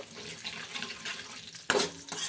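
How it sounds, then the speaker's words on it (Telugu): Tempering spices (chana dal, cumin, mustard seeds, urad dal, dried chillies, curry leaves, a pinch of asafoetida) frying in hot oil, a steady soft sizzle with a sudden loud stirring scrape partway through. "పోపు దినుసులు పచ్చనపప్పు, జీలకర్ర, ఆవాలు, మినప్పప్పు, పచ్చనపప్పు, ఎండుమిర్చి, కరివేపాకు, కొంచెం ఇంగువ ఇవన్నీ వేసుకుని క్రంచీగా ఫ్రై చేసుకోవాలండి దోరగా"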